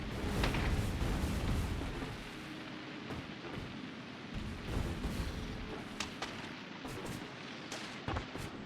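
Cluster grenades bursting among trees in Factorio, a heavy rumbling blast at the start followed by scattered sharp cracks and pops spread over several seconds, fairly close and alone.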